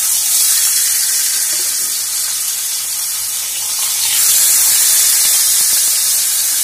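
Katla fish pieces fry in a pan, giving a steady, loud, close sizzle that runs unbroken and swells slightly near the end, with no voices over it.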